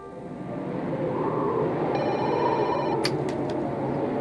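A telephone rings with an incoming call, a faint electronic ring tone rising over a low background hum before a few short, sharp clicks.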